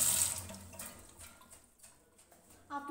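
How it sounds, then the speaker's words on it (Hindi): Tap water running over lemons being washed in a kitchen sink, a soft steady splash that fades slightly, with a brief clatter near the end. "मैं नींबू को हाथ धो लेती हूँ"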